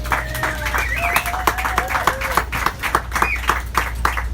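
A small group claps steadily for a few seconds aboard the Amtrak Coast Starlight train, the applause mixed with chatter over a low, constant rumble.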